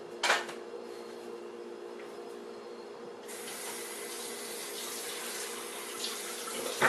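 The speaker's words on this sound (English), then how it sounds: "get those pans into the sink and get some water and get some soap into them" Water from a kitchen tap pours steadily into a sink holding pans greasy from cooked sausage. It starts as a low trickle, then turns into a louder, constant rushing stream about halfway through.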